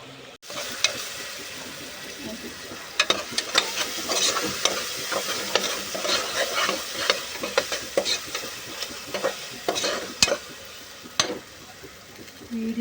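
Chicken curry cooks in a pan with ginger-garlic paste and softened onions, giving a steady sizzle with repeated scraping and clattering stirs that run unevenly across the whole stretch.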